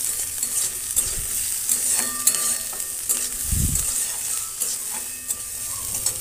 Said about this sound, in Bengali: আদা কুচি, দিয়ে ভালো করে মশলাগুলো সব একসাথে ভেজে নিচ্ছি।